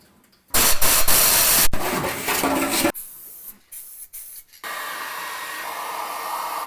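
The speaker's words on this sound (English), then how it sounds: "A little sandblaster really helps getting down into the corners where the wire brushes can't reach." A small sandblaster cleans surface rust from the body corners of a Datsun 240Z, producing a loud, harsh rushing hiss that blasts steadily, breaks into shorter uneven spurts, then settles into a quieter continuous spray.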